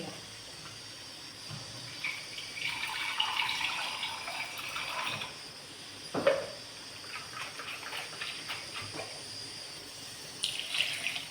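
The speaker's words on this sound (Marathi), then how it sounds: "त्याच्यात पाणी टाकूया आणि एक उकळी काढून घेऊया।" Water is poured into a pan of simmering egg curry: a few gurgling, splashing bursts of liquid, the strongest near the middle, against a quiet kitchen background with no speech.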